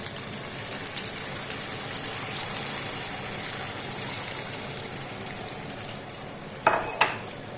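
Eggplant oturtma with water and spices bubbling in a pan, a steady hiss throughout, with a few sharp clinks of a utensil against the pan near the end.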